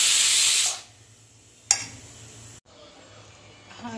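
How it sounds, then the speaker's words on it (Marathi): A pressure cooker lid comes off during cooking of beetroot sabzi, releasing a loud, steady hiss of steam for under a second that cuts off abruptly, followed by quiet kitchen room tone and a single sharp clunk. "आता मी कुकर खोलून घेतलेला आहे"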